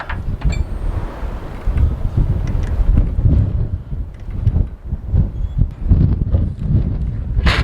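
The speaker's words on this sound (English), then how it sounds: "The wind stays up like this, blowing about 30 miles an hour" Strong gusty wind of about 30 miles an hour on a farm buffets the microphone in heavy low rumbles that rise and fall, with scattered thumps and rattles.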